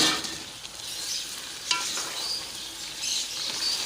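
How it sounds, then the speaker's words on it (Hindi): About two kilograms of chicken frying in a large pot with ginger, garlic, tomatoes and biryani masala, a steady close sizzle with stirring scrapes and clatters, no voices. "तो अभी चिकन को भूनते थोड़ा कुक करते हैं।"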